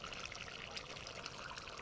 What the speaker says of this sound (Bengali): উপর থেকে দিয়ে দিচ্ছি ঘি